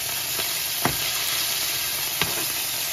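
Chicken pieces fry alone in a pan with a steady, even sizzle throughout, broken by two or three brief clicks of stirring.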